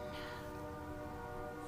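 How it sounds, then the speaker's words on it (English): A faint, steady train horn drones far off in the background, a low sustained tone lasting throughout. "apologies if you can hear a train horn in the background."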